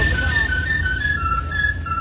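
Shrill whistles from the crowd at a rave DJ session, a steady high piercing tone held over pounding bass and crowd noise, pulsing slightly in strength throughout.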